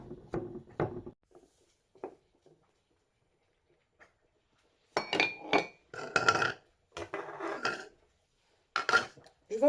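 A spatula working tamarind fruit in boiling water in a pot, giving sparse clinks and scrapes at first, then denser bursts of knocking and clattering against the vessel, close and fairly loud.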